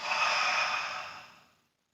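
A single long, steady exhale during a home Pilates workout, close and breathy, holding for about a second before tapering off into silence.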